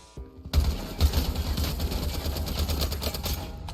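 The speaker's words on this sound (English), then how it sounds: "Getting shot from the left now too." Gunfire in the video game Lost Light begins with a quiet lead-in, then breaks into a loud, rapid stream of shots that rattles on close by for about three seconds.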